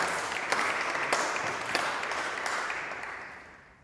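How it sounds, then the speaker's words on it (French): Sustained applause from a funeral gathering fills the air: dense, steady clapping by many people, sharp claps standing out now and then, fading gently toward the end. "I want you please to applaud her again."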